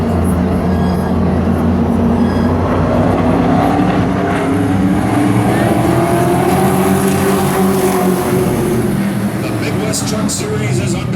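Race trucks roar away at the start of an eight-lap heat on an oval track, a loud, continuous engine drone with rising pitch as they accelerate, while a commentator talks over it.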